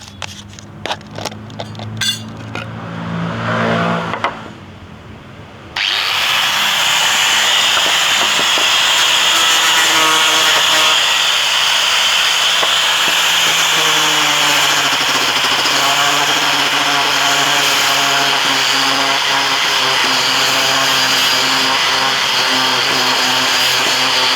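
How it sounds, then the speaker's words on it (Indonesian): A Doliz BA730 angle grinder fitted with a sanding pad whirs up after some clattering, then runs steadily and loudly with a high grinding whine as it sands wood. "kita pasangkan mata amplas seperti ini, kita bisa gunakan untuk mengamplas"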